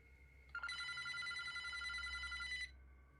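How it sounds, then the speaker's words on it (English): A telephone rings in one sustained, bright electronic trill lasting about two seconds over a faint background tone. "A couple of minutes go by when yet another phone starts to ring."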